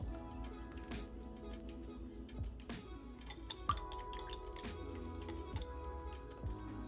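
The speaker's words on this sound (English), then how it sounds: "after we get this stirred up good, we're going to put in our 2 eggs" Spoon stirring Dr Pepper cake batter in a bowl, giving soft repeated clinks and taps against the bowl at an uneven rhythm over a steady low background hum, with no talking.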